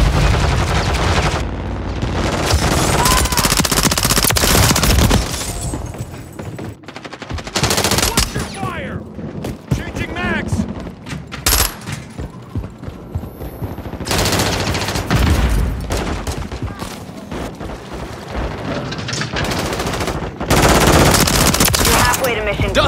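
Rapid machine gun fire in Call of Duty: Modern Warfare 3 multiplayer: loud, dense bursts of automatic shots with brief lulls between them, and game voice callouts mixed in.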